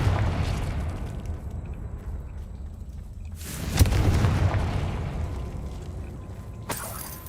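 A Confringo fire spell blasts in the Hogwarts Legacy video game, a loud booming explosion bursting in around the midpoint, with rumbling debris trailing off and a further impact near the end.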